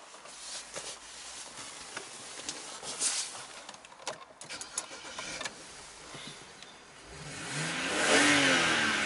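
A BMW 325i convertible with a Steptronic automatic gearbox starts and revs, rising to a swelling engine note near the end after quieter rumbling and clicks.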